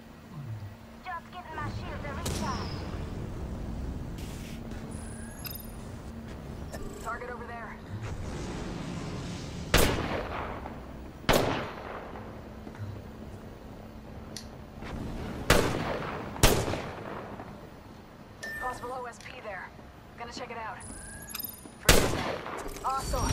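Gunfire in the video game Apex Legends: sharp, loud shots burst out at irregular intervals over constant in-game ambience, while a player talks throughout.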